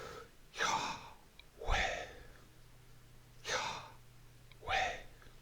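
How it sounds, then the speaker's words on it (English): Slow human breathing, four broad breathy swells of air drawn in and pushed out at a steady pace, close and fairly quiet over a low background hum. "and so you're breathing out, in and out"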